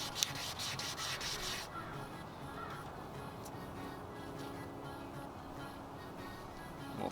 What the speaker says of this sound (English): I'm gonna see if I can sand that down a little bit.